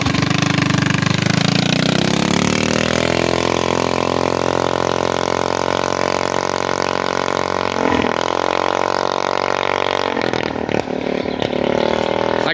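Monster Moto 80 minibike engine revving hard and bouncing off its rev limiter near 6,000 RPM, a loud, continuous buzzing drone that climbs in pitch and holds steady with brief stutters, no talk.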